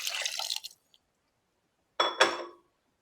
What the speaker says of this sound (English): I'm going to just add some water to my pot.